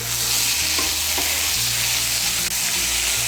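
Ridge gourd being stirred with spices and salt in a hot pan for a Bengali fish curry, a loud continuous sizzle with scraping spatula strokes, close and alone.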